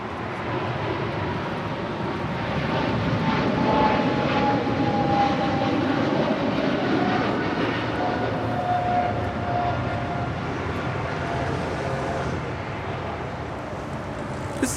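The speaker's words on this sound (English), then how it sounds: "This is American Airlines 136 Heavy departing to London Heathrow on a 777-300ER." An American Airlines Boeing 777-300ER departs Los Angeles International Airport, its engines producing a broad, steady jet roar that builds and then slowly eases, heard alone from a moderate distance.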